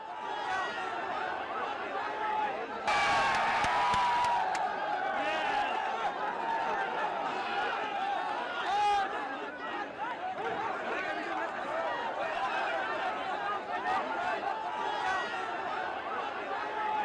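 A crowd in Jaipur mobs and attacks a man in news footage, a dense swell of agitated voices and chatter that surges louder for a couple of seconds early on, then continues as a steady clamor.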